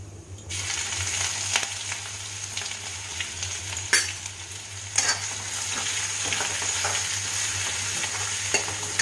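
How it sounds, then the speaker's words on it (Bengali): Ginger stirred as it fries in a pan, a steady close sizzle with soft scraping strokes over a low constant hum, and a few sharper clinks. "আদার কাঁচা গন্ধটা যাওয়া পর্যন্ত আমি একটু নাড়াচাড়া করব"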